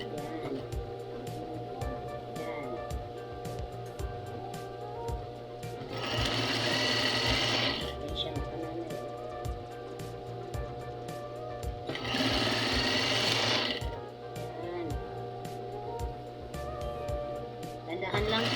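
A sewing machine stitches bias tape in two steady bursts of rapid whirring, close and moderately loud, between quieter stretches while someone talks softly throughout.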